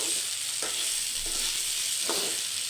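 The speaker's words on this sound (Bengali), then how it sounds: "এবার চাল ডাল একসঙ্গে ভাজি করে নিচ্ছি" Rice and lentils frying together in a pan for bhuna khichuri, a continuous bright sizzle with a few soft stirring scrapes spaced through it, close and steady with no voices.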